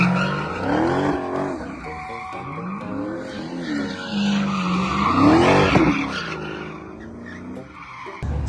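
A car with a welded differential spinning its tires, with long, loud rising and falling squeals over engine revving, repeating across several wheelspin bursts without talk.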